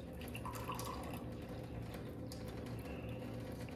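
Liquid passes through a strainer, a faint, steady trickle with soft, irregular drips heard close by and no voices.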